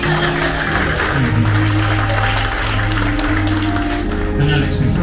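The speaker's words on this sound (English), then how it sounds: "that deserves a clap" Wedding guests applaud during a speech welcoming the groom into the family, a busy clatter of claps mixed with a loud sustained background tone and voices talking throughout.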